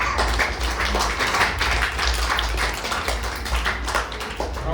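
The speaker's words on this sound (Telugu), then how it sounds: "చప్పట్లు కొట్టండి." Sunday school children clapping their hands in a group, a steady dense patter of claps that runs throughout with a low room hum beneath it.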